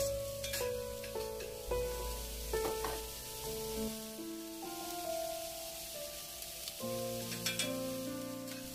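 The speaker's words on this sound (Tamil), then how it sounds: "வெங்காயம் லைட்டாக கலர் மாறினதுக்கப்புறமாக கட் பண்ணி வச்சுருக்கிற பயிற்றங்காயையும் சேர்த்து இதை வந்து நல்லா வதக்கி கொடுக்கலாம்" Chopped onion and long beans sauté and sizzle in a cast iron pan, a steady frying crackle broken by the clatter of stirring with a spatula, close and fairly quiet, with no talking.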